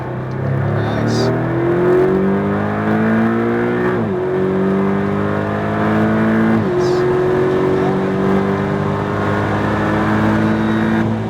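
A car accelerates at full throttle on a driving course, a loud, continuous engine drone rising steadily in pitch, dropping briefly at two gear changes and then climbing again.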